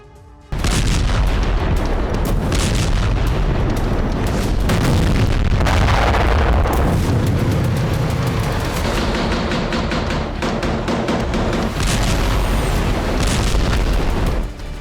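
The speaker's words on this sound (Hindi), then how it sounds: "थमने नहीं वाली है ये गोलाबारी।" Heavy artillery shelling in Gaza booms continuously, with loud, dense blasts and rumbling that fill the air for the whole stretch.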